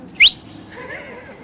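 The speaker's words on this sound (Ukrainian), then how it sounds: "Потому что обычно свистать умеют при помощи рук, пальцев там и остальным, а я могу так." A person whistles without using fingers, producing one short, loud, rising whistle near the start, followed by faint room background.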